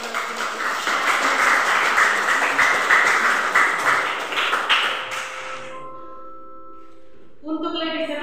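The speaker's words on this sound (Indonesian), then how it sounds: "Sekali lagi kita berikan tepuk tangan kepada Tony yang telah melakukan." Audience applause for a presenter named Tony at a teacher-training class session in Bali, a dense clatter of clapping hands lasting about five seconds before dying away into quiet.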